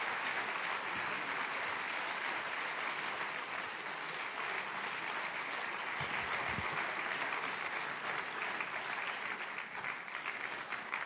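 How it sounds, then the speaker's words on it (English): Sustained applause from a large conference audience at a forum session with presidents, a steady, dense clapping texture lasting about eleven seconds with no speech over it. "This is your applause."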